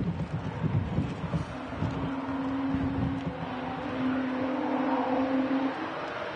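A geared turbofan aircraft engine at Manchester Airport gives off a droning, resonant hum that swells and holds a steady tone against broadband roar and wind noise as a storm approaches.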